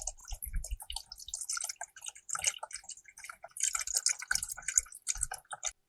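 Strained orange juice is poured into popsicle moulds, making soft, uneven trickles and drips with small splashes that come in close, irregular bursts and quiet gaps, with no voice.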